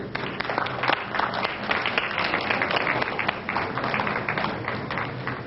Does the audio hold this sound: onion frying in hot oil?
no